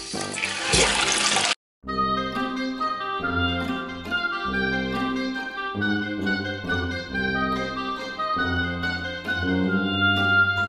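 A toilet flushes with a short rushing burst. The tank then refills through a faulty fill valve, giving a humming, tonal flow that shifts pitch and stops and starts in uneven stretches. It is close and fairly loud, with no voices.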